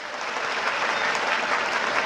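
Loud, steady applause from a large audience at a motivational speaking event, a dense unbroken wash of many hands clapping throughout with no voices over it.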